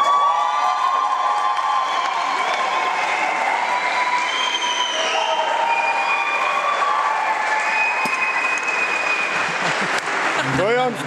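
Audience cheering and applauding loudly for a student rock band at a university rock event in Flensburg, with whistles and shouts sustained throughout as a steady roar of crowd noise.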